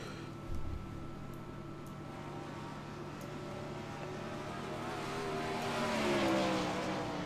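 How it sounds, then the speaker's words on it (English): 410 sprint cars run laps during qualifying on a dirt racetrack, their engines droning steadily at a distance, then a car roars closer and louder near the end. "the first couple of cars onto the racetrack for qualifying"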